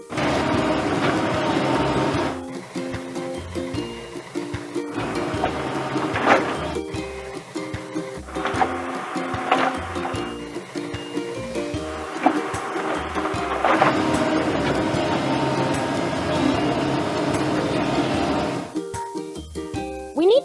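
An animated excavator digging a pit in a kids' truck-building game gives a steady, synthetic mechanical whir and hum, with shifting tonal engine-like pitches and a few brief breaks across the stretch.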